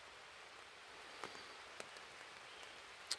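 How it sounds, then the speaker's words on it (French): Rain falling in a forest, a steady faint patter of drops on leaves with a few louder single drops standing out close by. "Vous entendez ce qui tombe? Il va pleuvoir comme ça pendant 1 heure."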